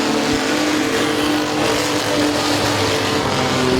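Race cars roar around Midvale Speedway, a loud continuous engine drone with rising revs and passing whines layered over the track noise.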